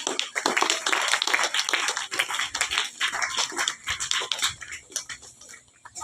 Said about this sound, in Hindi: इनके लिए भी एक बार जोरदार तालियां हो जाए